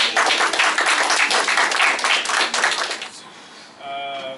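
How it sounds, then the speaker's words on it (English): Audience applause at a school district recognition event, loud dense clapping from a crowd that tapers off after about three seconds, followed by a brief voice. "So big round of applause for the"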